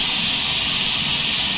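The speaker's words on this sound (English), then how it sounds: "So that's basically how you start the jet engines on a 737, I guess. So now that they're running now" Boeing 737-800 jet engines running in the X-Plane 11 flight simulator after start-up, a loud steady whine and rushing roar that holds without change.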